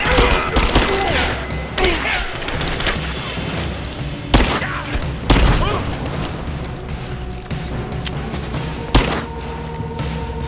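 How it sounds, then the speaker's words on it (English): Gunfire in the Rise of the Tomb Raider video game, sharp rapid shots and several heavier bangs cracking over a constant loud battle din, with voices calling out amid the firing. "Open fire! Taking fire! Give me suppressing fire!"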